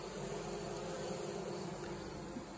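Honeybee swarm massed at the entrance of a top bar hive, fanning their wings in a steady, continuous buzzing drone close by, with no voices.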